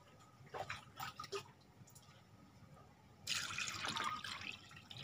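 Water pours over beef pieces being cooked for rendang. A few light drips come first, then a steady, close splashing stream runs for the last couple of seconds.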